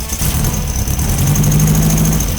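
A classic Volkswagen Beetle engine with a misfiring cylinder runs close by, a loud, steady idle with a rough, uneven throb and a faint whine on top.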